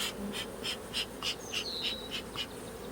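A swarm of Russian honey bees buzzes in a soft, continuous drone, with bees passing close by at a steady pulsing rhythm, outdoors and moderately faint.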